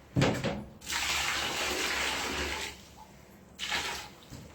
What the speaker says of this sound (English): put some more water in it.